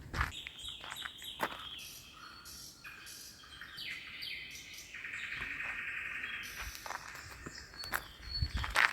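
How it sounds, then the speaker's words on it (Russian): Birds chirp and sing in quick bright phrases against a quiet outdoor background in the hills of Kislovodsk, Russia, on a hot day, with soft footsteps crunching along. "Иду такая, слышу, птицы поют."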